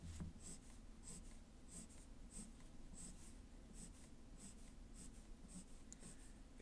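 Firm pencil strokes scratch across paper in a steady, repeated rhythm during a drawing warm-up, each stroke a short soft rasp close to the listener, with no talk over them.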